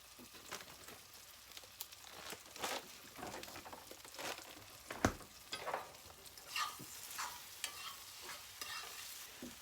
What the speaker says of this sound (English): And in go the peppers and onions.